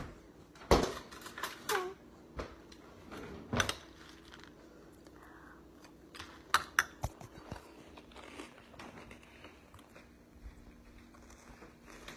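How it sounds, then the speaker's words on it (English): A person eats Lucky Charms cereal up close, with sharp crunchy bites followed by softer chewing at irregular intervals, quiet between bites. "if you don't like the sound of people chewing, I recommend you not watch this video"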